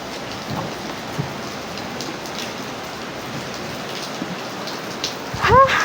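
Rain falls steadily outdoors in the Philippines, a dense close hiss of drops hitting surfaces, with a brief louder clatter near the end.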